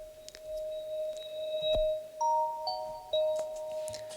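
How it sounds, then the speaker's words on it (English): A reversed bell hit sample used as a lead-in in an electronic track, its steady bell-like tones stepping through a few sustained pitches, clear and prominent with no voices. "I just put a little bell hit onto Edison, recorded it, pulled it back in, reversed it"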